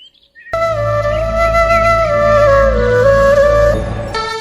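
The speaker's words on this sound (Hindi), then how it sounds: "गर्मी की ऋतु आने पर एक मीठी सी कूक सुनी होगी, मन में बैठ जाती है।" Summer cuckoo's sweet call rings out clearly as a sustained, melodic whistling phrase above a steady low background, with no talk.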